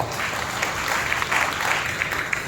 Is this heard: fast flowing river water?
no